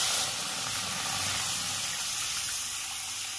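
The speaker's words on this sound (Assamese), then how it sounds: "এতিয়া কেৰাহীখন গৰম হৈ গ'ল আৰু আমি এতিয়া পানী এড কৰিম" Water added to a hot kadai for boiled fish hisses and steams in a steady, close rush that eases slightly toward the end, with no talking.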